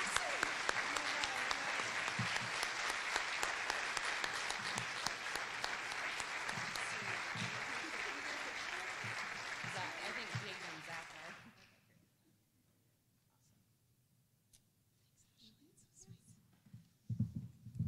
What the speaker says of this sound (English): just want everybody a round of applause for Andrea and her leadership